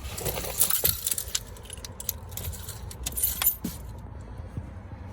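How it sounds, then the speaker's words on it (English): Keys jangle close by inside a Citroen C1 car, clinking and scraping as a key goes into the ignition, over a low steady hum. "Insert the key into ignition"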